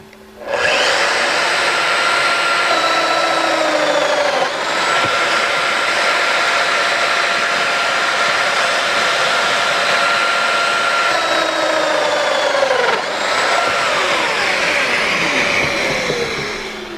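Festool Domino XL joiner running steadily and loudly for the whole stretch, a whining motor hum with cutter chatter, briefly dipping and rising again near 4.5 and 13 seconds as mortises are plunged.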